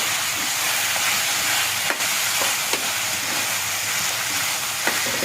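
Tomatoes fry in a pan for tomato rice, a steady close hiss and sizzle with a few sharp clicks and taps of a spoon.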